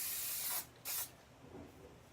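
Two short bursts of aerosol hairspray hiss onto back-combed hair, the first longer than the second, close by, then quiet room tone.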